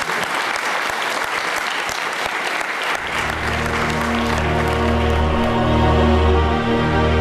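Church congregation applauding, a dense, loud burst of clapping that gives way after a few seconds to a sustained musical tone, with the applause continuing under it.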